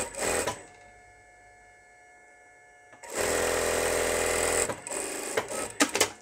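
A sewing machine stitches a 1 cm seam on a diaper pouch, running in a short burst, pausing, then a longer steady run of close, loud motor whirring.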